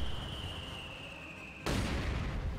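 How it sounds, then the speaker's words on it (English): Mortar shells land on a defended position in a Company of Heroes multiplayer battle: a sudden loud blast cuts in midway after a steady high whine, leaving a dense roaring rumble. "Mortar landing on the position"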